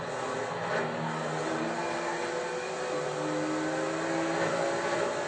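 Race cars in the Forza Horizon 5 racing game, engines roaring continuously and loudly as they run side by side, pitch climbing and shifting through gear changes with no pauses.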